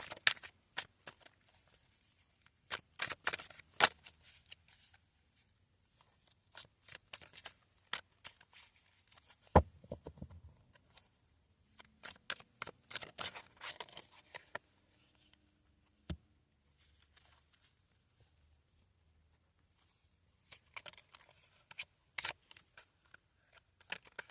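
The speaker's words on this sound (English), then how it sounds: "Now we shuffle." Deck of cards being shuffled by hand during a tarot-style energy reading, heard as repeated crisp riffling bursts and slaps spaced out over the stretch, close and fairly quiet with pauses between.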